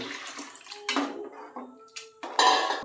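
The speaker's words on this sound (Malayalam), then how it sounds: "അതിൻ്റെ കൂടെ നമ്മൾ എടുത്തു വച്ചിരിക്കുന്ന തേങ്ങാ വെള്ളം, ഇതിൻ്റെ കരിക്ക് വെള്ളം, അതും കൂടെ ഇതിൽ ഒഴിക്കുക" Tender coconut water is poured into milk in a vessel for payasam, heard as short splashing pours and liquid gushes mixed with light clinks of metal utensils, close and intermittent.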